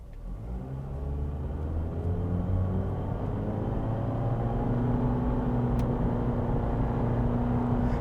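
A 2023 Honda HR-V with a CVT accelerates, its engine drone rising smoothly and then holding at a steady, continuous pitch, heard from inside the cabin over a low road rumble.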